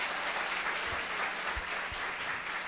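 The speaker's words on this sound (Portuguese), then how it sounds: "Aplauda também, não deixa os irmãos ali aplaudir sozinho, não." A church congregation claps together in a steady wash of applause, moderately loud and continuous, with a few low thumps beneath it.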